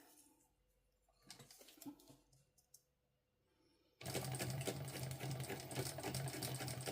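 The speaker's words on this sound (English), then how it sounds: "we are just going to follow the pattern instructions and sew around the 3 sides" A sewing machine stitches around three sides of a sling bag: after a few soft handling taps comes a loud, fast, steady mechanical stitching rattle that runs without pause to the end.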